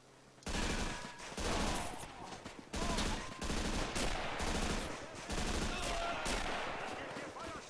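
Machine gun fire in the World War II strategy game Men of War: Assault Squad 2, sustained bursts of rapid shots with scattered distant reports, loud and continuous across the scene after a brief quiet start.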